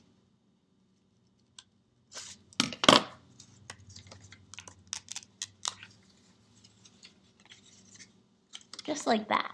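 Scissors snip a paper eel craft in a series of short, crisp cuts, quiet and close, with someone speaking briefly over the work.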